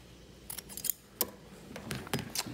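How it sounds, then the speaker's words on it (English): Scissors snip away excess fabric beside a seam on a doll's princess dress, several crisp close cuts in quick irregular succession with no talk. "now I'm going to trim the excess of this from the stitching that I did"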